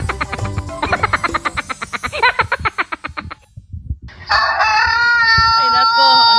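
A red rooster crows loudly and close by, a long drawn-out call following a run of quick rhythmic clucks and croaking calls.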